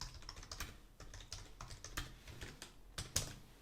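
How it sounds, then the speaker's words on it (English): Computer keyboard typing a commit message, a quick, steady run of light close-up keystroke clicks, fairly quiet and alone. "you just have to type the message here."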